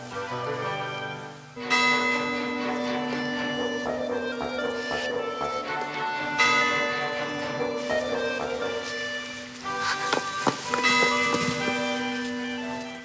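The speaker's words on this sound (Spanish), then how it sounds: "¡Son las campanas! ¡Son las 12!" Church bells ring out at midnight in repeated, overlapping resonant strikes, each peal sustaining and decaying under the next, clear and fairly loud throughout.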